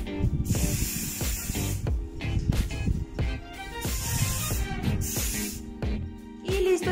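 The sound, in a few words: glitter hairspray being sprayed on hair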